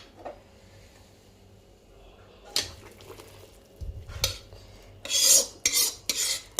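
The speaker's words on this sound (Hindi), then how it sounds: "अब ये डाल के इसको अच्छी तरह से मिला लेंगे।" Jaggery syrup being stirred into a dry fruit laddu mixture for gond laddu, with scraping and clinking of a spoon against a metal pan in bursts that grow louder and busier toward the end.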